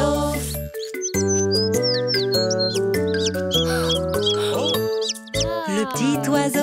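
A little cartoon bird chirps in quick high tweets over a bright, bouncy children's song with bells and plucked tones, all fairly loud and continuous.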